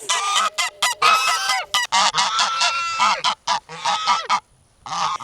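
Peacocks give loud, harsh, honking calls close by in a rapid series of repeated bursts with short gaps between them, with no talk over them.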